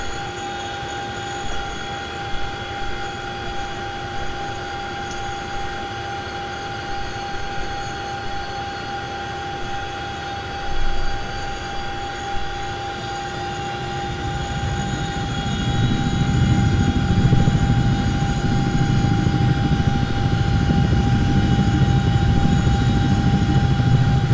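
A Boeing CH-47D Chinook helicopter spooling up for takeoff, with steady engine and turbine whine tones joined by a deepening, louder rotor rumble that swells over the last third.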